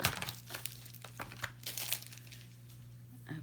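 New daisy ribbon packaging crinkles and crackles as it is pulled open, a quiet, close run of irregular plastic rustles and small snaps with no talking.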